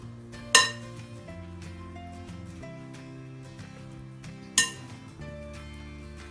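Dill and vegetable mixture for shepuchi vadi being mixed in a bowl, with two sharp clinks of a utensil against the bowl over a steady background hum, no talking.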